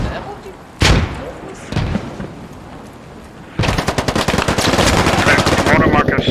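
Mortar fire in Squad on the Lashkar Valley, Afghanistan, battlefield. Two heavy booms land a second apart, then a long stretch of rapid, loud automatic gunfire follows.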